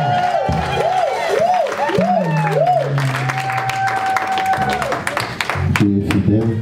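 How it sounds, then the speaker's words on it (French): A church congregation applauding together, with clapping running beneath voices singing and calling out in worship, lively and sustained throughout. "Acclamons pour Dieu."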